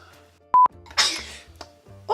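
A sneeze bursts out loudly from a person in a live audience setting, two sharp peaks in quick succession, with room chatter and murmuring before and after.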